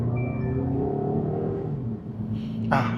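A 2018 Honda Accord 2.0 EL drives with a steady, close engine drone and road rumble that briefly swells as a gear changes smoothly, with no audible jolt.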